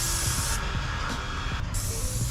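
A paint spray gun sprays removable lattice panels outdoors, giving a loud, steady hiss that cuts off briefly twice in short pauses between passes over a constant compressor-like hum.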